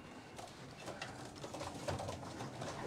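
Racing pigeons coo softly inside a loft in Ireland, low murmuring calls repeating over a quiet room background.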